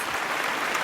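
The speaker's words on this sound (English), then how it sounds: "A big hand, ladies and" Dense, steady applause from a large audience at an entertainment awards ceremony, a continuous wash of clapping with no voices over it.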